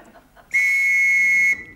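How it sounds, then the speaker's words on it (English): A single sharp whistle blast, about one second long, loud and close, between bits of talk. "What's the whistle for?"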